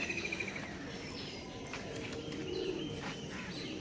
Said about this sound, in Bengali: পায়রাগুলো উঠছে